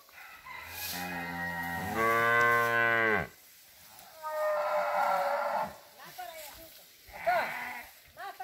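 A cow on a family farm moos loudly and repeatedly, long drawn-out bellows with pauses between them, while people talk nearby in the open air.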